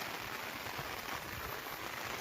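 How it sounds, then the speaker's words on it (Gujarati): Heavy unseasonal rain pours down in a constant, dense hiss, close and loud, with no voices or other sounds. "વરસાદ જો ધોધમાર પડી રહ્યો છે અત્યારે"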